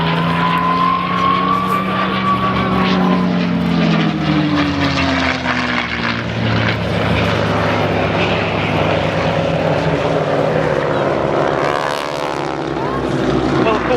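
A P-51 Mustang propeller fighter flies past at an autumn airshow at Duxford, its engine drone loud and continuous with shifting pitch throughout, with a commentator's voice running over it.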